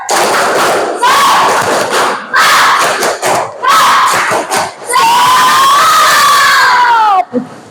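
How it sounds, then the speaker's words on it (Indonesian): A school class of children performs a spirit clap chant for their teacher, loud shouted chanting voices in bursts with sharp rhythmic clap thuds between phrases, ending in a long sustained group shout. "Coba Ibu minta tepuk semangatnya."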